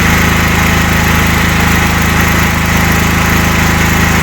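A Dnipro-M GX-70E generator engine, fitted with a dual-fuel carburetor, runs at a steady, loud drone with an even buzzing pulse from start to finish and no talk over it.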